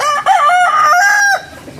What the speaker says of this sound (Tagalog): Yung dami manok ha.